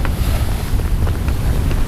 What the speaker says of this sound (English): Winds are about 20, gusting 25.